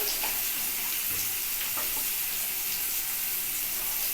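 Spice paste with chili powder sautés in a pan for an eggplant curry, a dense continuous sizzle with faint scraping of stirring, close and steady with no talk.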